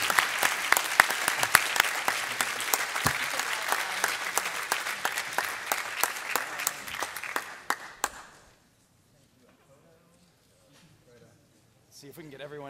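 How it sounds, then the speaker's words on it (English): Audience applause for third place winners at a Philips wearables challenge event, loud dense clapping with sharp individual claps that tapers off, then near silence and a brief return of noise at the end. "please congratulate with a warm round of applause our two third place winners, Luco Labs and Bold Diagnostics"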